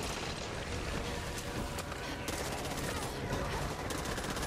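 Gunfire in the video game Back 4 Blood: dense, continuous rapid shots form a steady wash of noise throughout, loud and unbroken.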